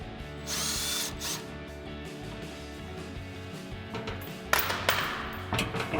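Power drill whirring in short bursts as it backs out the bolts holding the skid plate under the front bumper of a 2021-2023 Ford Bronco, with ratcheting clicks and light tool handling between runs, close and loud.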